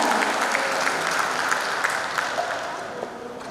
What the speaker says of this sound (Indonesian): boleh kita berikan semangat dan tepuk tangan untuk para penerima penghargaan